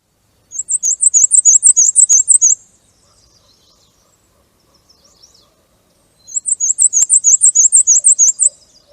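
Black-and-white warbler song: two bursts of rapid, high, squeaky two-note phrases, each lasting about two seconds, repeated in a steady wheel-like rhythm, clear and fairly close with a quiet gap between them.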